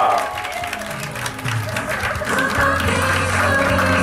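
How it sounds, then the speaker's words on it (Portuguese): A crowd applauds warmly during a tribute ceremony, a continuous roar of clapping mixed with cheering and voices, loud and sustained throughout. "Uma salva de palmas, galera!"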